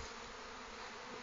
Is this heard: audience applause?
no